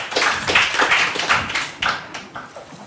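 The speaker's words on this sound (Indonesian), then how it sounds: "Tepuk tangan untuk mereka berempat" A burst of clapping from a debate audience, dense at first and then thinning out to a few scattered claps as it fades.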